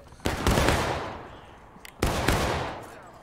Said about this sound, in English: He's gonna fire. Drop him.